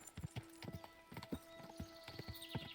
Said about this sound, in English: Go, go, horsey, go.